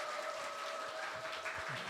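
Audience at a Christian book-and-life concert in Seoul applauds the host: soft, continuous clapping from a crowd, fairly faint and even throughout.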